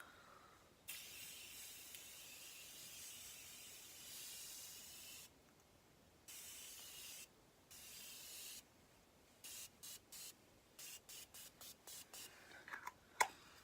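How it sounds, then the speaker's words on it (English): Repeated bursts of a Morphe Continuous Setting Mist sprayed onto a face, a long hissing spritz followed by a run of short, quick pumps, fairly faint and close with no talking. "I am just going to spray my face down with my Morphe Continuous Setting Mist."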